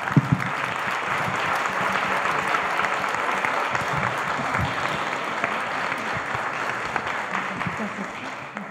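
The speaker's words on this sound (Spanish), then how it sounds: "Pues agradecemos con un aplauso a Monseñor Arellano." Sustained audience applause at a closing ceremony of an ecclesiastical tribunal course, with many hands clapping steadily at an even level for nearly nine seconds.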